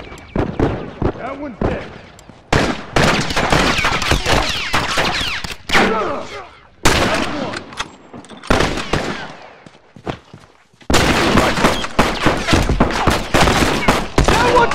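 Loud, close rifle gunfire from The Last of Us multiplayer comes in repeated rapid bursts and sustained volleys, with short silent gaps and a player talking over the shooting.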